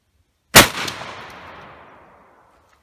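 A single rifle shot at 50 metres cracks sharply and loud, followed by a long fading echo that rolls away over about two seconds, with no talk.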